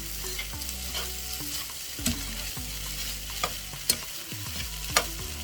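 Fried rice stirred and frying in a pan, with a steady sizzle and repeated scraping, clattering strokes of a utensil close by, with no talking.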